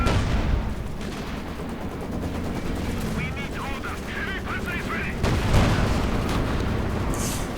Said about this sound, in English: Sturmpanzer 4 fires off another volley.